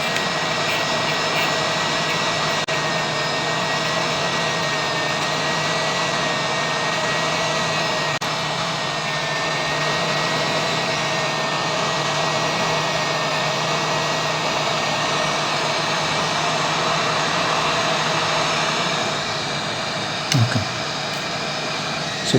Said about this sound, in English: I've set my blower at 340 degrees and the air is at maximum.